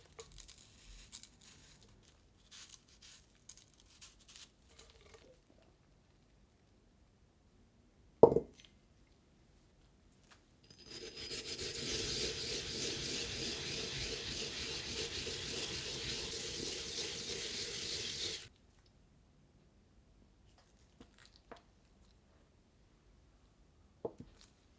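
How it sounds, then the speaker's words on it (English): Chinese yam being peeled and then grated for okonomiyaki: a soft scrape and plop, then about eight seconds of steady, close rasping as the yam is rubbed across a grater, quiet and without talk. "Peel the yam and grind."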